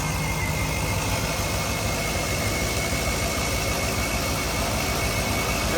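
A Ford Fairmont engine fitted with Holley Sniper single-barrel fuel injection and a mechanical fuel pump idles steadily, a continuous close rumble and whir without change or voices.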